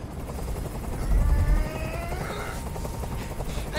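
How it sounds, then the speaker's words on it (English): Helicopter in the Detroit Become Human video game, a steady low rotor thrum with faint whining tones, swelling slightly in the middle and continuing without pause. "I can't stand that noise anymore. Tell that helicopter to get out of here."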